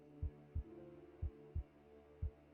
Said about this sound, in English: My heartbeat quickened